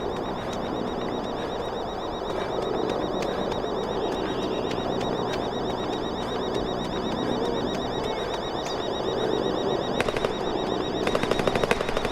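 Gunfire rattles in the zombie survival game The Day Before, a steady stream of distant automatic shots over ambient background noise, with sharper cracks near the end and no talking.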